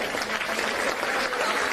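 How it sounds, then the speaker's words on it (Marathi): Audience of women at a rally in Sindhudurg clapping to welcome guests, a dense, steady wash of applause from many hands, loud and continuous with a faint voice beneath. "सर्व महिला भगिनींनी टाळ्या वाजवून त्यांचं स्वागत करणं"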